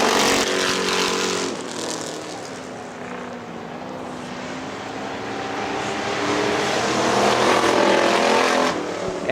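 Factory stock cars racing at Hartford Speedway Park, engines roaring close by as the pack passes, with a droning pitch that dips and then swells again as the cars come around, loud and continuous.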